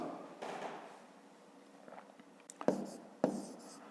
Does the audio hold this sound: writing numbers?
yes